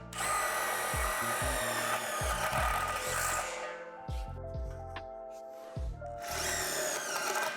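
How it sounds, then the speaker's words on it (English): A self-tapping screw is driven into a metal pole during assembly of a Lifetime 44-inch portable basketball system. It gives bursts of a close power-driver whine separated by pauses, with rattling metallic knocks and clicks in between; no talking. "Secure the poles together by inserting the self-tapping screw into the small holes on the same side as the pole bracket."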